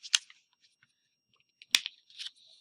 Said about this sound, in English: So I'm going to fold it in half here.